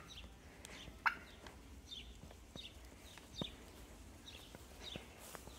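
Two farm turkeys gobble several times, faint and somewhat distant, with scattered sharp clucks and calls from other poultry in a quiet yard.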